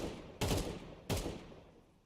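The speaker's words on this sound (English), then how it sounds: "Has just backed away due to the gunfire of Notineki" Two sharp gunfire bursts in a competitive shooter video game, each a sudden loud crack with a short decaying tail, spaced under a second apart.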